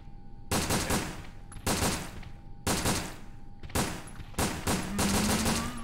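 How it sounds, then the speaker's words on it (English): Handgun in Resident Evil: Dead Aim firing loud three-round bursts, five sharp clustered volleys spaced about a second apart, each with a brief ringing tail, up close with no talk. "The handgun can fire bursts of 3 rounds at a time."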